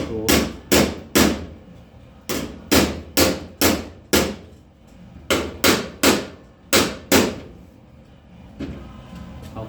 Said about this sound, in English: if I hammer it out, how it should be, it should go line up